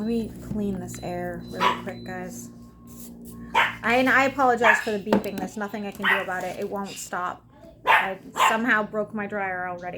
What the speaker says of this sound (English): Sorry, dog's acting weird.